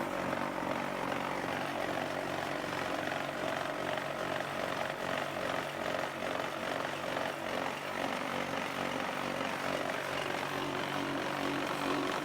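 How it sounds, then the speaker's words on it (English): Vibrators on a QTJ4-40 hollow block machine making zigzag pavers run together, a loud, continuous mechanical drone with a rough, buzzing texture that holds steady throughout. "These two vibrations switch on together."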